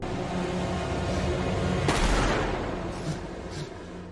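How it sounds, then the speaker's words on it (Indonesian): Gunfire in an action film scene: a sharp, loud burst near the two-second mark with a booming low tail, followed by a couple of fainter cracks over a dense, rumbling soundtrack bed. "Ternyata itu tembakan dari 2 detektif polisi."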